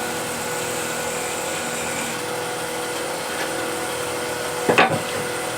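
A skew chisel cuts a small ring on wood spinning on a lathe, with a steady motor hum and a soft continuous scraping hiss, then a brief sharp burst of cutting noise near the end.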